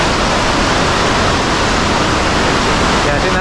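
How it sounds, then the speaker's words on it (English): A powerful waterfall in Nepal roars steadily as a loud, dense wash of broadband noise with no break, close and overwhelming. "I think that's the scariest waterfall I've ever seen"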